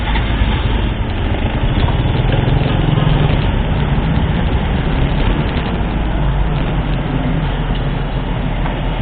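Motorcycle engine running steadily at idle, a constant close rumble with fast pulsing throb holding level for the whole stretch, no voices.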